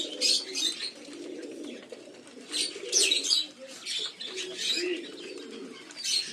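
Pigeons coo in repeated soft throaty bursts at close range while feeding on scattered chickpeas, with brief chirps and a flutter of wings mixed in.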